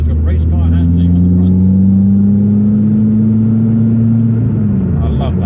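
A Renault Clio 182 Trophy with fast road cams hums loudly from inside the cabin, a steady droning engine note that climbs gently in pitch before easing off near the end.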